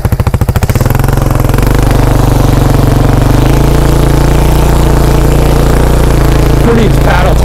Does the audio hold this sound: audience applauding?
no